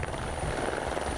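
A helicopter flying over snowy Swedish forest during moose filming gives a steady, loud rotor and engine roar that fills the whole moment without a break or any voice.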